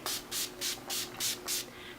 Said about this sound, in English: And then I use my, what is this called? My Urban Decay All Nighter Setting Spray.